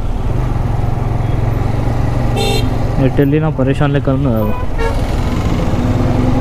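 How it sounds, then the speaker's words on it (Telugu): Busy heavy road traffic in Aliabad, Hyderabad, with a steady low engine rumble, a short horn blast, then a burst of several rapid overlapping honks, while someone talks over the noise. "ఇది అలియాబాద్ అట, ఇది ఫుల్ ట్రాఫిక్ ఉంది."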